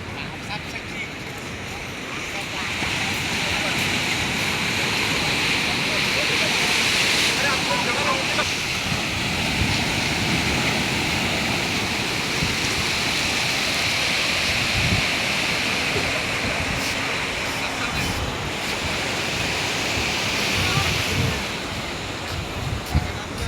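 Sea waves at Puri beach roar steadily with continuous surf wash and wind buffeting the microphone, loud and constant, with voices faintly mixed in.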